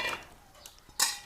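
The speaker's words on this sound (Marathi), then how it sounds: "आता आपल्याला ह्या पातेल्याला गॅसवरनं खाली उतरवायचंय" A metal cooking pot of warm oil is lifted off a gas stove, giving one short clank near the end over quiet room background.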